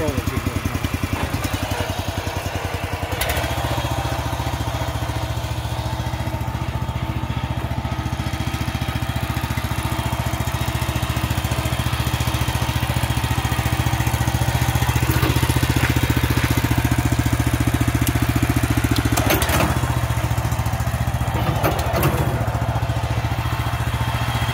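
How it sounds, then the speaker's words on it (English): A farm tractor engine idles steadily and close by, a low continuous rumble with a deep thrumming pulse that holds even from start to finish, with a couple of brief clanks partway through. "I think I'm just going to start on the tractor and go around the tractor"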